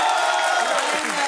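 Applause from a studio audience on a reality show set, a dense wash of clapping running steadily through the whole moment at fairly high level, with a little crowd murmur mixed in.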